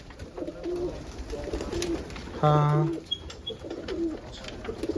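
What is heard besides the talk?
pigeons cooing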